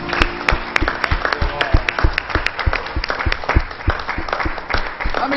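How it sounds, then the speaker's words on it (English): A church congregation at Lafayette Pentecostal Church of God claps in praise during a Sunday morning service, loud and close, with sharp irregular hand claps over a steady wash of applause. "Give Him a hand clap of praise."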